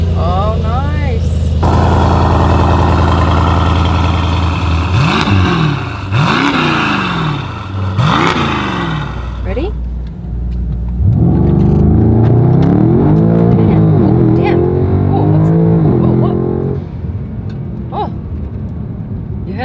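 A tuned Mercedes with turbos pulls away hard, its engine rising through rapid revving sweeps with gear changes, then settling into a loud sustained drone close to the microphone before easing off at the end.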